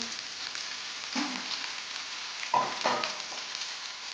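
Snail curry with broccoli stirred in a pan over a lowered gas flame, giving a low steady sizzle with two or three brief scraping stirs, close and fairly quiet.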